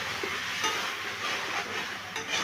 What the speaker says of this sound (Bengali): সাথে মশলাটাকে ভালো করে আমি কষিয়ে নিচ্ছি। একটু সামান্য জল দিচ্ছি